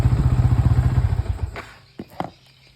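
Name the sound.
Yamaha Vixion motorcycle engine being switched off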